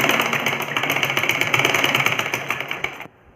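A sewing machine stitches the back strip of a ladies' kurta, a steady rapid mechanical chatter with a rhythmic pulse running close and loud for about three seconds before stopping abruptly.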